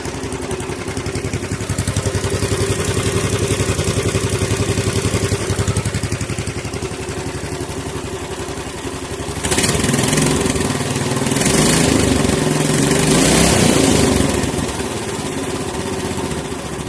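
A 440cc big block motorcycle engine idles steadily with an even low rumble, then the revs rise and fall in a few brief blips before settling back to idle, loud and close.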